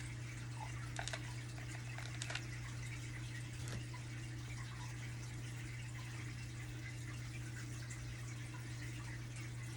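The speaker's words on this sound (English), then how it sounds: "so y'all don't have to listen to my fish tank" An aquarium fish tank's water runs in a steady, continuous wash with a low, constant hum underneath. It is moderately quiet and unbroken, with no voices.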